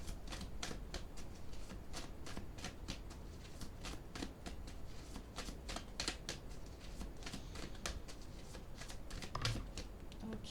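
Tarot cards shuffled by hand in a quiet room, a steady run of soft, rapid riffling flutters and taps repeating throughout, faint and close, with no talk.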